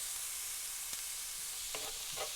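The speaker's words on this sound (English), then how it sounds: "While the onions and the garlic are sauteing" Onions and garlic sauté in oil in a pan, giving a steady broadband sizzle with a couple of faint stirring scrapes near the end, with no voices.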